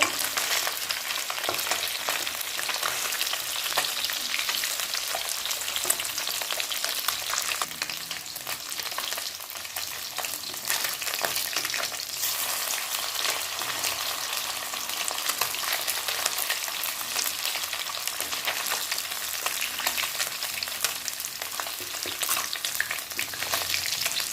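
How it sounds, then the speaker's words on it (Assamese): Pieces of fish sizzle in hot oil in a wok for an Assamese fish curry, with stirring mixed in. A loud, continuous crackling hiss runs close throughout, and no one talks. "কেৰাহীত তেল অলপ গৰম কৰি মাছখিনি ফ্ৰাই কৰি ল'ম এনেদৰে"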